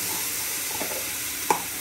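A splash of water hits frying masala in a pan for a chicken fry, a soft steady sizzle with a brief sharper hiss and knock near the end, close and unaccompanied by speech.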